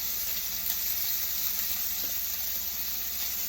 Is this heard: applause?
no